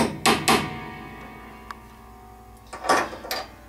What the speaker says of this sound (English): sliding our punch up against the back side of the front rail and tap and make a little dimple